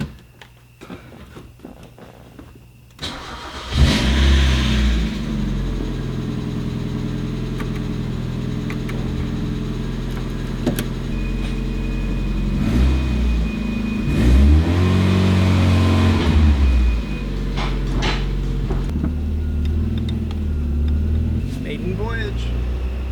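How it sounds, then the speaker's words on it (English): A Mazda Miata engine, just reassembled and running with a leaking heater core hose, revs and pulls through gears on a test drive, steady mid-pitched drone swelling with each acceleration, with voices talking over it. "So let's take it for a test drive."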